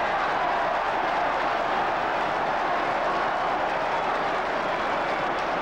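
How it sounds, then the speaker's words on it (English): Football stadium crowd applauding and cheering after a Norwich City goal, a broad, steady roar of many distant voices and hands held at an even level throughout. "the applause had barely died down"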